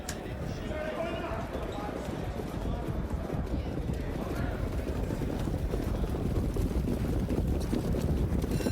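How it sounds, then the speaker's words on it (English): Harness racing horses trotting off the gate at the start of a race, a steady stream of hoofbeats heard through wind noise and rumble while a race announcer calls over them. "On gate for the Nat Bray, race 7. Here they come"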